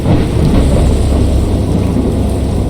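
A heavy thunderstorm with steady loud rain and deep rolling thunder rumbling low and continuous throughout, with no voices present.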